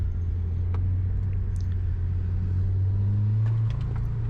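Subaru WRX (2020) on a wet autocross course captured by an in-car camera, a continuous mid-pitched engine drone that rises slightly in pitch near the end, with light road noise and no talk.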